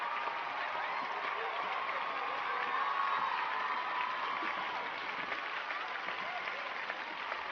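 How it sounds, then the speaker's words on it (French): A competition audience claps and cheers for a jump-rope competitor, a steady broad wash of applause with scattered shouts, fairly distant and continuous throughout. "Applaudissez, je vous prie, Emily Smith Denji"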